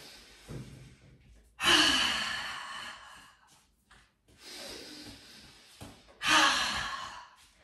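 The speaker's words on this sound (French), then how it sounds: "On inspire par le nez et on expire par la bouche." Deep breaths in a fitness routine: slow inhales through the nose followed by long, loud, breathy exhales through the mouth, repeated about three times up close with no talking.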